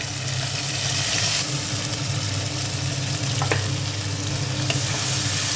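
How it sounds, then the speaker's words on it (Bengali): Ground spice paste frying in oil in a wok with bay leaves, whole cumin, whole garam masala and tomato, a steady close sizzle with a few light scrapes of stirring, no voices. "এবারে মশলাটা আমি কষাবো"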